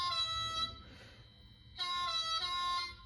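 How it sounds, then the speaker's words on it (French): Horn of an HO scale LS Models AGC model train on a layout, sounding as two sustained, bright multi-tone blasts separated by a short pause, close and fairly loud with no talk. "Bon, un petit coup de klaxon, ça fait pas de mal."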